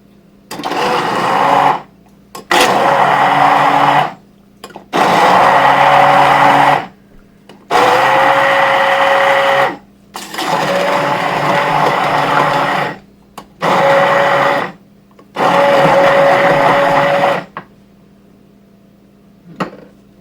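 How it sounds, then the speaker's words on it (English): An immersion blender buzzes through turkey gravy in a series of loud pulses of several seconds each, separated by short pauses, close by with no talking. "and then an immersion blender"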